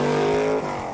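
A 1966 Chevy Corvair fitted with a mid-mounted small-block Chevy V8 revs loudly and close, its rich harmonic tone holding steady before dropping off sharply partway through the short burst.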